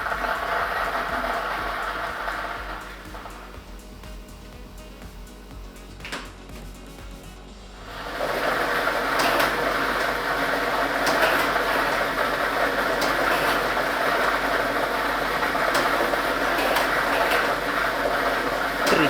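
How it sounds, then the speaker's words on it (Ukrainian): A lottery ball drawing machine runs with a continuous clattering, whirring mechanical churn, dipping briefly before resuming louder as the balls tumble. "І ми вмикаємо лототрон"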